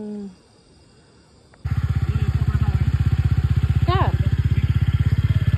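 A scooter with its rear tyre stuck on a rough village road revs hard after a quiet start, a close, loud, rapidly pulsing engine throb that holds steady, with a brief voice over it.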